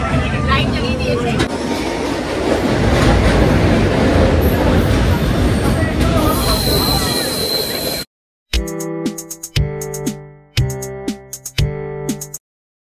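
A passenger train on the Araku Valley line runs through a tunnel with a loud, dense roar and rattle for several seconds. Then it cuts to a few separate bright musical chimes with silent gaps between them.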